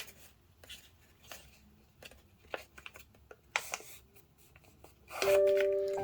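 Paper is folded into a paper airplane with soft crinkles, creases and rubbing scrapes at close range, quiet and intermittent, ending with a louder rustle as a faint tone sounds.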